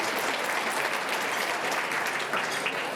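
A room full of people at an awards gala claps steadily, a dense, even wash of applause with no pauses.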